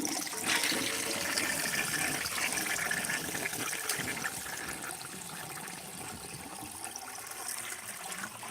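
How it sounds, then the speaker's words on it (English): A toilet gurgles and sloshes, with churning water and bubbling that fill the whole stretch up close. The sound is loudest early and eases off slightly toward the end, and nobody speaks. "Now that's how you make a toilet gurgle."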